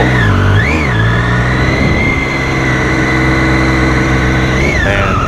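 A Triumph Daytona 675R three-cylinder sport motorcycle revs loudly and close, its engine note rising, dipping and climbing again in a strong, continuous whine.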